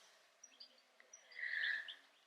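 Birds chirp outdoors near a cherry tree on an apple farm, with faint scattered calls followed by a clearer, brighter song phrase at a moderate distance and no talk.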